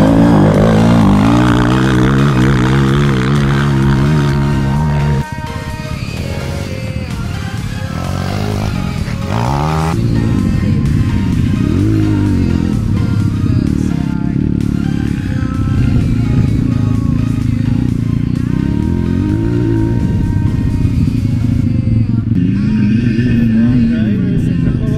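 Yamaha YFZ and Blaster quad ATV engines riding, loud continuous revving and rising-falling engine drone with clatter throughout, close by, with people's voices mixed in.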